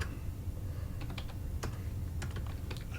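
Faint, quick keystrokes clatter on a computer keyboard in irregular bursts against a quiet room hum.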